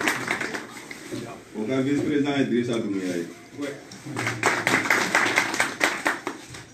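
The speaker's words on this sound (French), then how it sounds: "Applaudissez." At a committee meeting in a hotel in Spain, a man announces a vice-president's name into a microphone, then the audience breaks into scattered, fairly near applause that continues as a steady patter under and after his voice.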